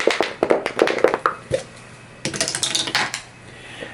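Dice clatter down through a dice tower during a Zombicide Black Plague board game, in two bursts of rapid hard taps and rattles separated by a short pause, close and fairly loud.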